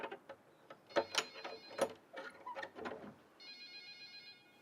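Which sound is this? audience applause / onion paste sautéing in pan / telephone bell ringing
telephone bell ringing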